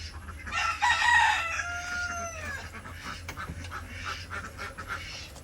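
A country chicken gives a loud crowing call near the start, then the sound fades into scattered clucks and faint background noise.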